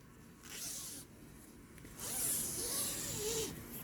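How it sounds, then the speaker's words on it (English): A zipper on a duvet cover for a weighted blanket is pulled open in two close, raspy strokes, alone and fairly quiet. "So you're going to unzip your duvet."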